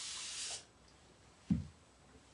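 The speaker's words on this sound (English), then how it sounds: "So a lot of water with my spray" A spray bottle spritzing water onto a cabinet during a makeover: a half-second hiss of spray, quiet, then a soft thump and a short final spritz.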